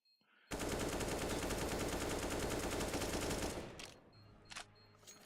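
Sustained automatic gunfire in the Counter-Strike video game, sprayed at the bomb in one loud unbroken burst of about three seconds that cuts off abruptly, followed by a few brief clicks.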